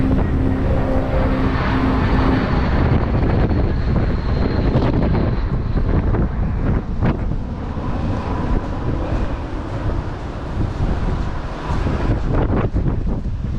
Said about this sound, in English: These winds are very violent right now.